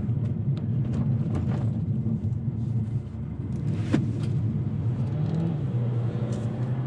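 A 2021 Kia Seltos corners in sport mode, with a steady low engine and road rumble heard from inside the cabin and a brief knock partway through; no one speaks.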